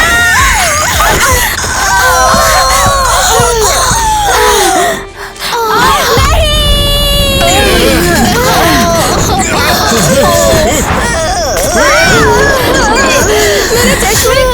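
A girl screams loudly and shrilly in a staged vampire-hunter skit, a long piercing cry rising above excited voices and gasps from the others in the scene.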